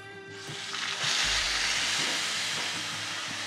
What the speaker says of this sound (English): We're going to put this on top. We're going to try to get a nice sear on this